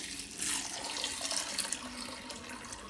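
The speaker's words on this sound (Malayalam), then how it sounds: "ഇനി ഇതിലേക്ക് കുറച്ച് വെള്ളം ഒഴിച്ചൊന്ന് വാഷ് ചെയ്ത് എടുക്കണം." Water poured into a bowl of sabudana for washing, a steady close splashing rush from a tap that runs without pause.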